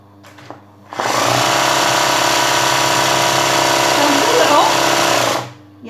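A sewing machine stitches Rabati embroidery in one loud, continuous whirring run of about four and a half seconds, starting abruptly and stopping cleanly, with quieter handling sounds before and after.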